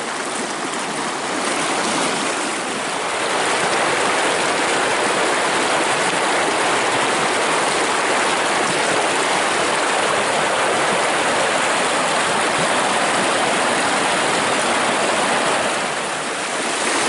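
A swift, clear river rushes steadily at Air Haji in Pesisir Selatan, a loud continuous broadband roar of flowing water close by with no voices.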